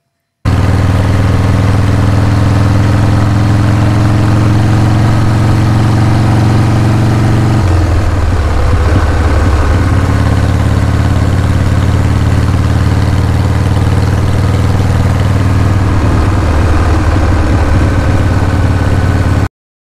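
A car engine runs steadily throughout a short drive, a loud continuous low hum with a brief shift in pitch partway through, likely a gear change, then settling back into the drone, with no talking.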